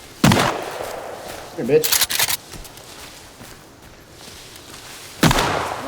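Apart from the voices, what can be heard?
gunshots in the video game Sons of the Forest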